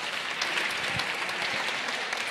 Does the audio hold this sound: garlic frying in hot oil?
no